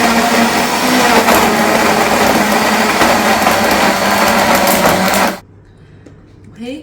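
A blender whirs loudly and steadily, blending frozen banana, honey and cold water, then cuts off abruptly near the end, leaving a quiet room.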